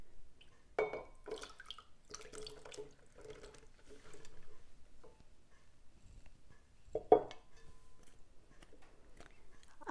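Okra being squeezed by hand in a bowl, with wet squelches and water dripping and splashing in short bursts, including a louder splash near the end, over a quiet kitchen background.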